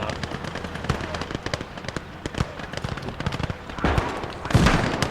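Rapid bursts of a Molotov launcher firing over and over in a Soviet battle-themed video game: irregular popping and cracking shots scattered across the clip, with louder booming blasts toward the end.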